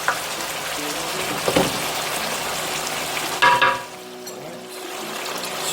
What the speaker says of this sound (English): That is my stir-fry.